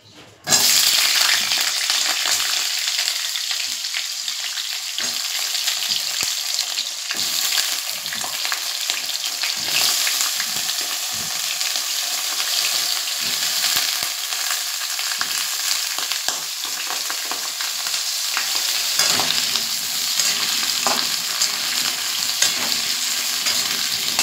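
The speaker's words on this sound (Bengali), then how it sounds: "এরপরের মধ্যে আলুগুলো ভাজতে ছেড়ে দেবো।" Potatoes fry in hot oil for a vegetarian aloo dum, giving a loud, continuous close-up sizzle with occasional stirring clatter throughout, with no talking.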